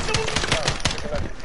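Rapid bursts of automatic gunfire in the video game Modern Warfare, loud and close, firing in quick repeated volleys with speech-like sounds mixed underneath.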